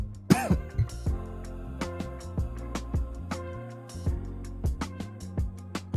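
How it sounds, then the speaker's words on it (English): Repeated short coughs and throat-clearing bursts, close and fairly quiet, recurring irregularly throughout with no talking. "Yeah, I didn't want to cough all in your ear."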